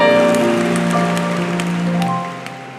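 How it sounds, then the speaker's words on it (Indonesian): A church congregation applauds, a sustained patter of clapping beneath a held musical chord that fades gradually over a few seconds. "Kasih tepuk tangan untuk Tuhan"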